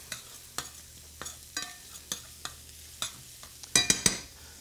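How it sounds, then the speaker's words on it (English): Shallots sautéing in a pan, a soft background sizzle broken by sharp intermittent stirring clicks and scrapes, with a cluster of clattering utensil knocks near the end. "So we'll saute the shallots."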